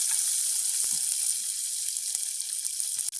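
Onions and green chillies sizzle steadily in a hot pan, a continuous close frying hiss with a few faint stirring knocks, no voices.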